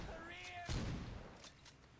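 A shotgun blast fires in the Saints Row 2 video game: one loud broadband boom near the start, a wide burst trailing into a noisy tail and fainter follow-up cracks, with the game's music tones fading beneath.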